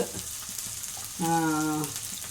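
Cumin seeds, garlic and curry leaves crackle in hot oil as the base for an ivy gourd poriyal, a steady close sizzle with a brief tonal hum partway through.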